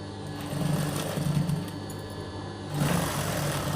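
Sewing machine running steadily as it top-stitches the hem of an inner skirt, a close, even mechanical whir that speeds up slightly near the end, with no talking.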